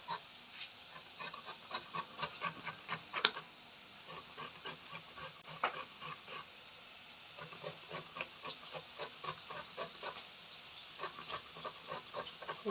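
Beetroot is grated by hand in a quiet, steady series of short rasping strokes, with a faint hiss between them.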